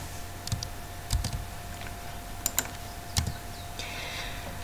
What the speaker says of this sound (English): ignoring the interesting typing